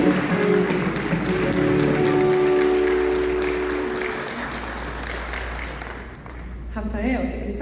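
Applause from an audience at a ceremony, a steady patter of clapping that fades out over several seconds, followed by quieter room sounds and a voice speaking.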